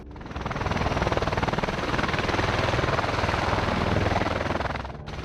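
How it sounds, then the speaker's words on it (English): A USAF V-22 Osprey tiltrotor departs a hospital helipad with a loud, steady rotor roar and rhythmic blade thumping that holds close and powerful throughout before dipping briefly at the end. "Attenborough Hospital helipad destroyed by USAF Osprey departure by accident"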